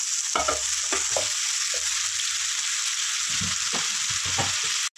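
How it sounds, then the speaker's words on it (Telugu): Chicken pieces go into a hot pan with chopped broad beans for a curry and fry with a constant sizzle, while a spoon stirs through them in repeated scraping strokes close by. "ఇవ్వండి చికెన్ వేసేస్తాను నేను."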